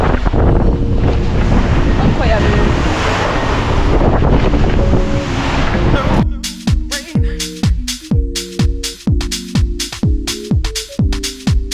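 Wind and waves aboard a Mini Transat racing sailboat in 15 to 20 knots at sea: loud roaring, buffeting wind noise with rushing water for several seconds, then giving way to a series of rhythmic, repeated tonal bursts.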